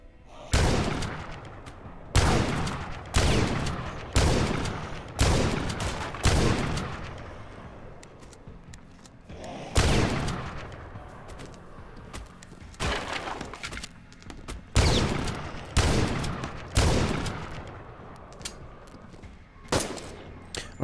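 Repeated shotgun blasts from gameplay of The Last Stand: Aftermath, about a dozen loud booming shots fired one after another with short gaps while zombies are cleared, with no talking over them.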